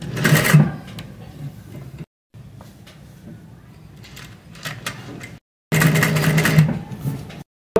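A sewing machine stitches the neckline of a kurti in a few sustained runs of steady mechanical whirring, broken by short pauses, close and fairly loud with a voice faintly present.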